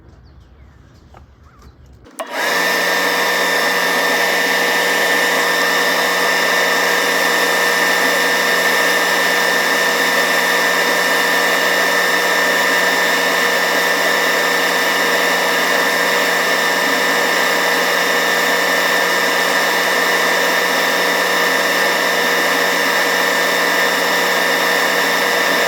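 An airbrush or spray gun coats a Tamiya 1/24 Nissan Z model body with paint, a steady close hiss that starts abruptly after a brief quiet moment and runs on at an even level without pause.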